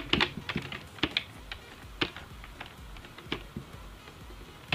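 Typing on a computer keyboard while writing a program: a steady run of close, clicky keystrokes in uneven bursts with brief pauses, over a low background hum.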